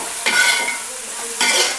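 Ingredients dropped into hot oil in a pan, two sharp bursts of loud sizzling with a quieter hiss between them, close up and with no talk.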